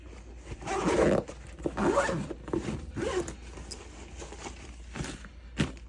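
A tote bag zipper is pulled closed in several quick, scratchy strokes, fairly close, followed by a few soft rustles and one sharp tug at the end.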